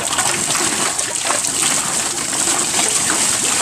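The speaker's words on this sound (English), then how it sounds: "Water wheel." Water splashing and rushing steadily from a turning water wheel in Hoi An, Vietnam, a loud, continuous wash of spray with no voices.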